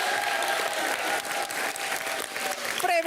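A crowd at a school sports event applauds a primary school team with loud, sustained clapping, and a voice comes in briefly at the end.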